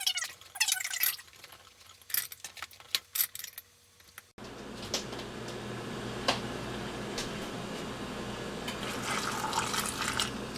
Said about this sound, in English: We're going to fill it up, and we're going to leave 1/2 inch of head space